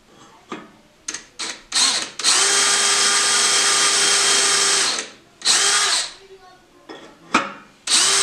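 Power drill boring holes in steel plate in a home garage, with several short bursts followed by one long sustained high-pitched whine of about three seconds, then more brief drilling runs. The drill is close and loud.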